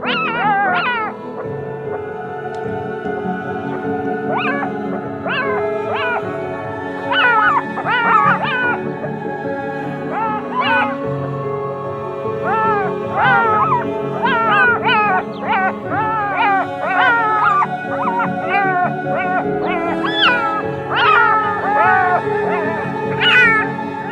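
A jackal calls repeatedly near a leopard at a waterhole in the Kgalagadi Transfrontier Park, a run of high, yelping, wavering cries in bursts, fairly loud and continuous with no talk.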